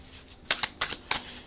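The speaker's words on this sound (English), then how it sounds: "So we're going to go ahead and shuffle again." Tarot cards being shuffled, giving three quick papery riffling bursts close up against a quiet background.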